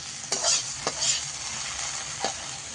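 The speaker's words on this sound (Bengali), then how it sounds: "আর একটু টান টান করে কষে নেব" Taro flowers with tamarind and sugar stir-fried in a pan, a soft steady sizzle broken by a few sharp scraping strokes of the spatula, close and fairly quiet.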